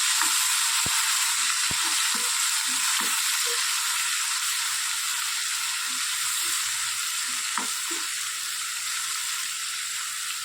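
Sev tameta, a tomato and gram-flour noodle curry, cooks in a pan under a steady, dense hiss of sizzling, with sparse soft scrapes and clicks of a spoon stirring the mixture.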